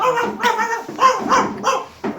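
A person imitates a dog, giving several short yappy barks in a quick uneven rhythm, close and fairly loud.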